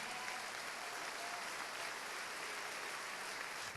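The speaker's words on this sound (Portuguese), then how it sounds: "Pode aplaudir." Church congregation applauding during a service, an even, continuous wash of many hands clapping at moderate level from start to finish.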